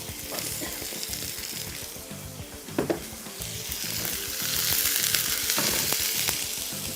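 Chicken fries in oil with a dense, steady sizzle and a few stirring scrapes and clicks, growing slightly louder toward the end, with no voices.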